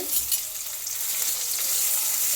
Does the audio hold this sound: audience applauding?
no